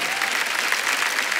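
Audience applause at a comedy show, a steady dense wash of clapping filling the whole moment without a break.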